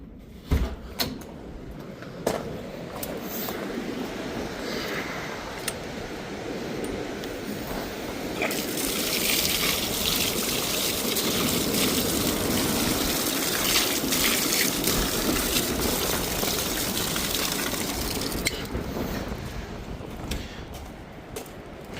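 Water running outdoors at a homestead while dirty hands are washed, a few clunks first, then a steady splashing flow that swells for about ten seconds before tapering off.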